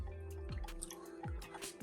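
A cornstarch and water mixture is poured into a pan of teriyaki sauce, giving soft close drips and wet squishing splashes in a few short bursts, quiet and without talk.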